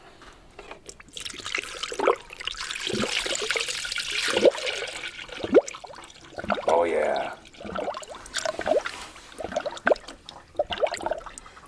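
Coolant is poured into the rusted radiator of a Foxbody Mustang, a loose liquid gurgle and trickle with air burping out in short bursts, close by, with a few brief spoken remarks over it.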